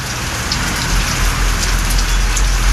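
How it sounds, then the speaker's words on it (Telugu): Heavy rain pours down steadily in a downpour in Kerala and Tamil Nadu, a dense, continuous hiss that stays loud and even throughout, with no voices. "కేరళ, తమిళనాడులో కుండపోతగా వర్షాలు కురుస్తున్నాయి"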